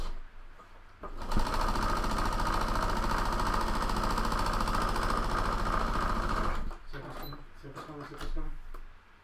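Sewing machine running a quarter-inch seam on a fabric mask, a fast steady mechanical rattle lasting several seconds, starting abruptly and stopping cleanly, with light handling noises and a voice around it.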